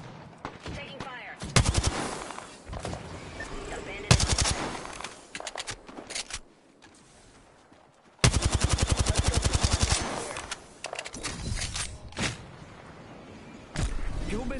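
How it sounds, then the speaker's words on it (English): Video game gunfire comes in several loud bursts of rapid automatic shots with quieter gaps between them, close and harsh, while players talk faintly in the background. "Taking fire."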